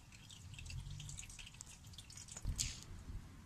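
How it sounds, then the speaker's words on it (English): Engine oil drips from a Mazda Bongo after an oil drain into a collection pot, with close, irregular wet drips and small splats over a quiet background. "And there's still oil and dripping down."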